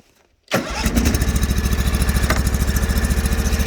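A Briggs 20HP V-twin on a Sears Suburban snowblower cranks and catches on choke after a short quiet lead-in, then runs loudly with a fast, steady, slightly uneven chugging beat, suggesting it is not firing properly on both cylinders.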